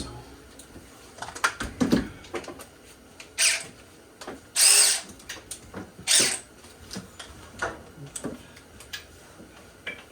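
Bursts from an old DeWalt power tool breaking loose bolts on a 6.5L diesel engine during a cylinder head job, several short whirring spurts between quieter clinks and shop noise.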